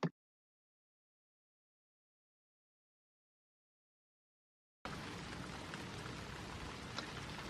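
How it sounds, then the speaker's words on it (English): Gentle rain falls steadily as a soft, even patter with no voices, starting abruptly after a long stretch of silence and continuing at moderate level to the end. "it was so lovely to have rain, taking the heat away."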